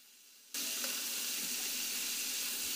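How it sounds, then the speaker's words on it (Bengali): Prawns lightly frying in a pan: after half a second of near silence a loud, steady sizzle of hot oil bursts in and holds, with no voices. "আমি এখানে হালকা করে চিংড়ি মাছটা ভেজে নেব।"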